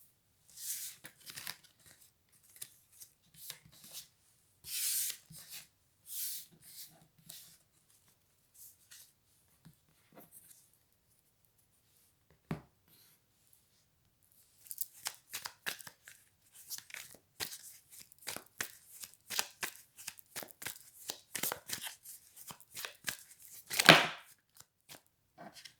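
Dixit cards being shuffled and handled in quiet, brief crisp riffles and flicks in scattered bursts with long pauses, then a denser run of card snaps near the end.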